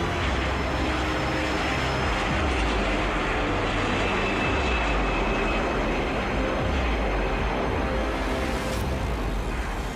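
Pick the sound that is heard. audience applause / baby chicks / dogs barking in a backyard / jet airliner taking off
jet airliner taking off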